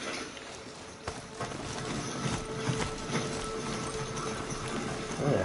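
Horse galloping in a story-mode video game, a steady run of hoofbeats under game music and ambient noise.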